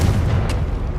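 Confringo fire spell blasting in the Hogwarts Legacy video game: a single deep, rumbling boom with a sustained low roar, loud and close, no talking.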